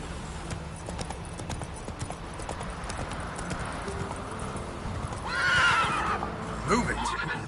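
Roach, the horse in The Witcher 3, trots with a rhythmic clip-clop of hooves under a steady background bed, ending in a short whinny near the close.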